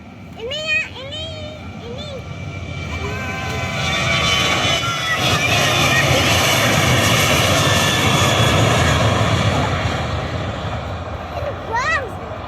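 A passenger airplane taking off at Yogyakarta's YIA airport in Kulon Progo produces a loud, building engine roar that swells and fades. Voices call out over it, and a cat-like squeal is heard near the start and end.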